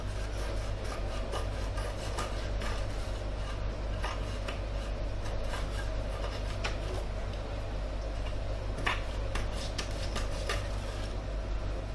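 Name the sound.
trimming excess off an icon panel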